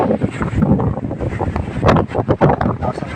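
Gusty typhoon wind with rain roars and buffets the microphone steadily, with a few sharper bursts of rustling noise.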